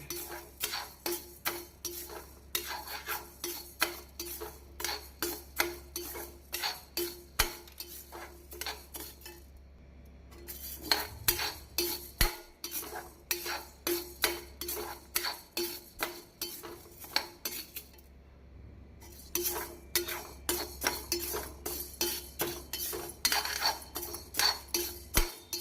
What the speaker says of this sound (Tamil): உளுந்தை நாம் மிதமான தீயில் வைத்து பொன்னிறமாக மாறும் வரை வறுக்க வேண்டும்.